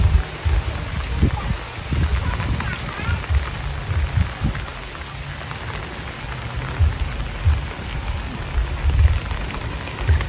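Steady rain falls over a rural pig farm in the Philippine countryside, a dense continuous patter with low rumbling undertones and occasional voices faintly underneath.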